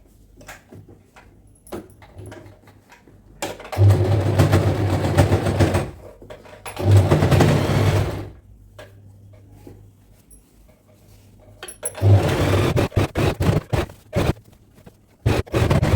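A sewing machine stitches dhoti cloth in three loud, steady bursts of rapid mechanical whirring, each lasting a couple of seconds, separated by quieter pauses with small clicks and handling noises.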